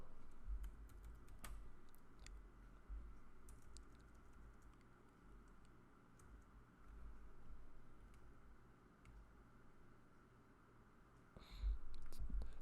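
Soft, irregular clicking of keys on a sticky computer keyboard, close and quiet, with a slightly louder cluster of presses near the end.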